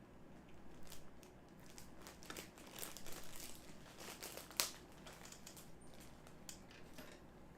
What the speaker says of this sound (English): This, unfortunately, isn't a resealable bag. So we're just going to use our teeth to rip it open.